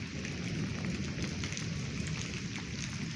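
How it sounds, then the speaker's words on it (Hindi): Outdoor rain falls steadily, a dense even patter and hiss close to the microphone with no voices. "ये बारिश आ रही है"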